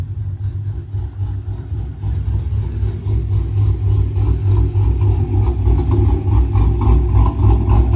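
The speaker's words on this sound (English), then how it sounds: "The car sounds nasty." Deep, rumbling V8 of a 2014 Chevy Camaro SS running close by, a steady low growl that swells slightly louder partway through, with no talking.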